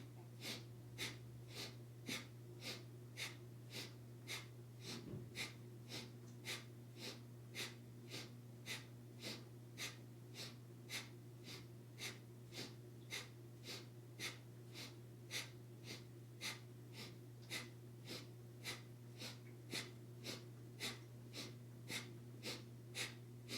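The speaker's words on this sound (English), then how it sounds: "we're going to inhale, drawing the shoulders up towards the ears," Rapid, rhythmic breathing during a kriya yoga detox exercise, with sharp, evenly paced breaths repeating about once a second for over twenty seconds, quiet and close over a low steady hum.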